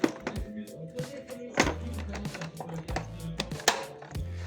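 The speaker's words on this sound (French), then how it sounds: "Et maintenant, on va pétrir pendant 6 minutes." A stand mixer kneading chorizo bread dough at speed 1, producing repeated irregular thumps and slaps with a steady low motor hum, close and fairly loud.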